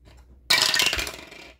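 Coins drop into a savings container in a single sharp, metallic clatter that rings briefly and fades, heard close after a moment of near silence.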